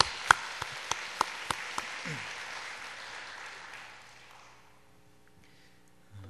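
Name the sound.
church congregation applause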